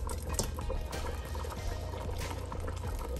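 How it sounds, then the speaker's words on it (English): Sauce mixture poured into a hot pan beside a stovetop beef pot roast, a continuous liquid splashing and sizzling with a low steady rumble throughout, close and without speech. "what we're gonna do is pour some of this mixture"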